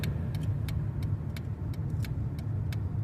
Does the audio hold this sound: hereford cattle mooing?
no